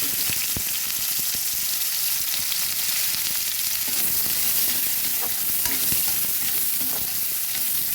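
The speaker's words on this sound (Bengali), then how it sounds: "মাছ ভাজার কড়াইটার মধ্যে আরেকটু তেল দিয়ে এবার দিয়ে দিচ্ছি পেঁয়াজ" Onions frying in hot oil in the wok just used for frying boal fish give a steady, loud sizzle with crackling pops throughout, close by and without any talking.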